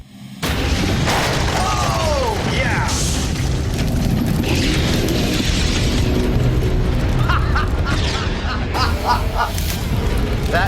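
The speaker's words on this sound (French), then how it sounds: "On a fait exploser toute la façade avant." A methane gas explosion blowing out a building's front facade: a loud, sustained blast roar with crackling debris and rumbling fills the scene, while excited voices shout over the noise.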